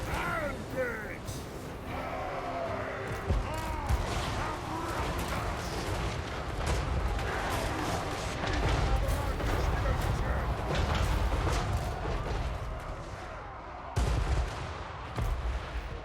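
Cannon fire in a Warhammer strategy video game, dwarf army battle: continuous dense booms and rumbling blasts over battle noise, with voiced unit shouts and talk mixed in throughout.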